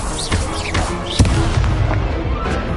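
An Incendio fire spell is cast in Hogwarts Legacy, with sharp bursting booms and crackling blasts layered over a busy game soundscape, one strong hit standing out near the middle.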